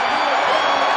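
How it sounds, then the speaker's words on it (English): A basketball arena crowd in Cyclone Alley cheering as Jazz Kuntz enters the Iowa State game, a loud dense roar filling the whole brief moment. "the cheer you hear from Cyclone Alley is for Jazz Kuntz entering the game for the first time"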